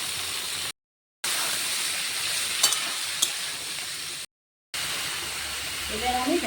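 Bottle gourd sizzles steadily in a little oil with salt in a pan, a continuous close hiss with a couple of faint clicks, cut by two brief silent gaps.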